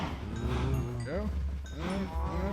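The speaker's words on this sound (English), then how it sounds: "Cows." Several Minecraft cows moo in overlapping, drawn-out calls with rising pitch sweeps, close and fairly loud against a steady low hum, with no talking.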